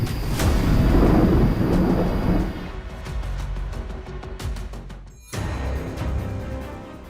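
A heavy cloudburst pours down with rolling thunder, a dense, loud roar of rain, then a brief drop before the downpour resumes.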